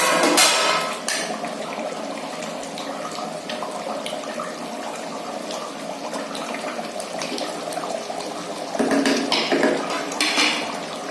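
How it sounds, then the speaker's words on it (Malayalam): Mutton biryani curry is stirred in a pot, with metal spoon clanks and scraping against the pot over a steady bubbling background, a couple of louder knocks near the start and end. "നമ്മളിത് ഇടയ്ക്കൊന്ന് ഇളക്കി കൊടുക്കും."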